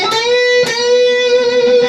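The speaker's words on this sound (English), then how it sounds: "and then bending and then hitting the 10th and bending up a whole step." An electric guitar plays a short lick from a guitar solo, two sharp picked notes bent upward and held ringing, clear and close with no talking.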